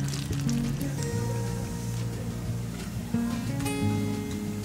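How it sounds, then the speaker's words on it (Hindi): Sheer khurma ingredients frying in a pan over a low flame, a steady soft sizzle and crackle that stays even throughout, with a few faint clinks. "इसमें अच्छी खुशबू आने तक हम इसे अच्छे से फ्राई करते रहेंगे"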